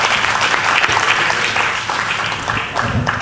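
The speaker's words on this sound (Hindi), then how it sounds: "जरा एक बार जोरदार तालियां आप उनके लिए बजा दें।" Audience applause fills a Hindi poetry gathering (kavi sammelan) in a society hall, a dense, steady wash of clapping hands throughout that eases slightly toward the end, with no speech over it.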